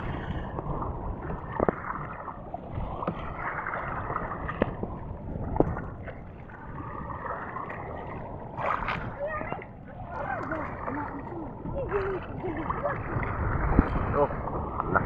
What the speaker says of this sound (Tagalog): Malaking mga alon guys.